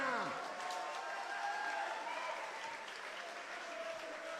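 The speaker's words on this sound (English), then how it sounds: "Let's give these guys a big round of applause one more time." Crowd applause at a kickboxing championship event fills the arena, a steady wash of clapping with some faint voices and a brief ringing tone at the start.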